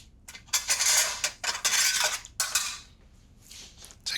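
A teaspoon scrapes and taps inside whole tomatoes, hollowing them out for stuffing, in a series of short, close metallic scraping bursts with brief pauses between them and no talking.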